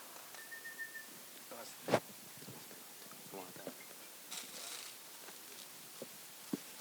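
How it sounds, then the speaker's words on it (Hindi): A whistle from an audience member at a film trailer launch event sounds briefly at the start. Scattered claps, knocks and crowd noise from the venue follow, all fairly faint. "सीटी बजाने में बिजी है"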